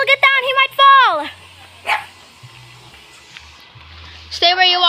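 A dog at a chicken farm barks loudly and close, with a quick burst of yelping barks at the start, a pause with scattered low sounds, then another sharp bark at the end.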